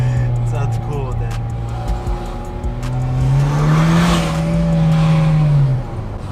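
A turbocharged car engine revving loudly and close, its pitch dipping then climbing in a long sustained rise, with people talking over it.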